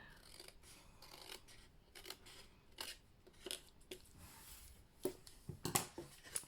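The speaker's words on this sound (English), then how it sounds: "So what I'm going to do is just take my scissors to that and just remove it." Scissors snipping through paper in a series of short, crisp cuts, irregularly spaced, with a few louder snips near the end.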